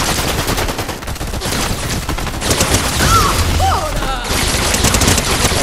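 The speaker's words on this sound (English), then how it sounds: "People shooting at me." Dense, loud gunfire from the video game Fortnite, overlapping bursts of automatic and rapid shots running throughout with brief game tones in the middle, close and continuous.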